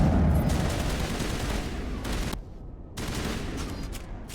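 Rapid sustained gunfire from a shooter in the video game Mass Effect, aimed at a rocket in the sky; dense, loud bursts of shots run almost continuously, with a brief lull before the firing resumes.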